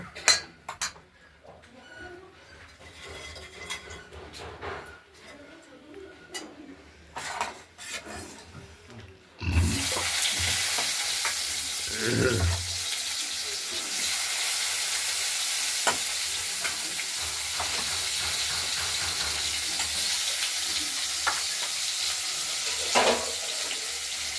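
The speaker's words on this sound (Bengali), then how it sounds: "এরপর এই কেটে রাখা আলুগুলো আমরা ভেজে নেব।" Cut potatoes hit hot oil in a pan already seasoned with dried red chilies and bay leaves, bursting into a loud, steady sizzle after some quieter kitchen clatter and stirring.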